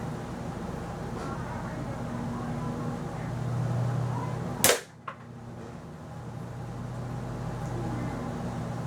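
A Daisy 99 BB gun fires once at a target three to four yards away with a BB catcher, giving a single sharp, loud crack followed by a faint tick, over a steady low background hum.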